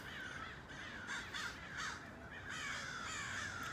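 Crows caw repeatedly in a series of rough, moderately distant calls over steady outdoor background noise.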